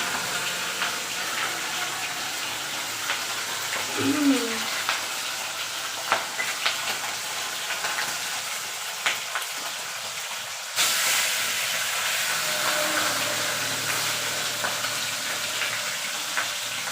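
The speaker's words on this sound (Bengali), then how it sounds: "মুড়ো দুটো তুললাম, একটু ভাজা হতে থাক" Two fish heads fry in hot oil on a gas flame, giving a steady crackling sizzle with a few sharper spits and pops, and the hiss thickens partway through.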